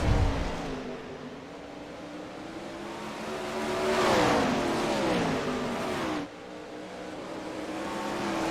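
Race cars in a sim racing game run nose to tail in a four-car pack down the backstretch into turns three and four, engines droning and revving up in a rising, whining swell before the sound abruptly drops.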